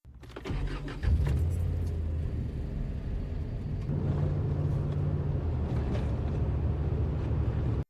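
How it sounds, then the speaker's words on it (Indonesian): A car engine revs and pulls away, a steady loud rumble holding for several seconds after the start, with no talk over it. "Joseph pun langsung ngodiin mobilnya ben mangkat."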